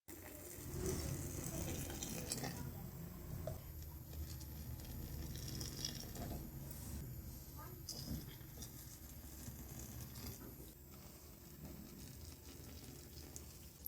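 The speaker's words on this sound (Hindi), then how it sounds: "अब हम इसको मिक्स करेंगे।" Instant coffee and hot milk being mixed in a cup make a steady, close scraping and swishing whir that runs unbroken throughout, with no talk over it.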